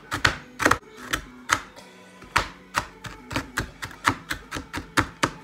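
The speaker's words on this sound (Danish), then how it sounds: "Skal jeg bare lige hakke dem lidt." Oreo cookies being chopped with a knife on a board for a dessert: sharp, close knocks of the blade in an uneven series of about fifteen strikes, a brief pause early on, no voices.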